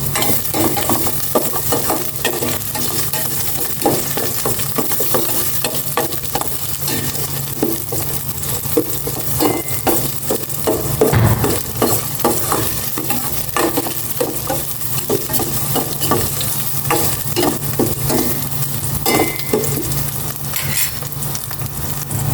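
Onions sautéing in a pan: a loud, continuous crackling sizzle with busy scraping and stirring noises throughout.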